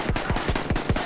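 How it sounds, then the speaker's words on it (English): Rapid machine-gun fire from the video game Battlefield 1, loud and close, with about six sharp shots in a quick burst. "I'm getting shot at. Who's shooting me?"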